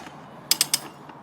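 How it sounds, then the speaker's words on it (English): A manual Rabaconda motorcycle tire changer ratchets during a rear tire change on a Honda Africa Twin, three quick sharp metallic clicks close by in a short burst, otherwise quiet. "and start ratcheting."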